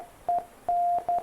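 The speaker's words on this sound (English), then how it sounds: "make you hear that Morse code file also, and this is the Morse code file." Morse code audio file playing clean electronic beeps at one steady pitch, a few short and long tones separated by brief gaps.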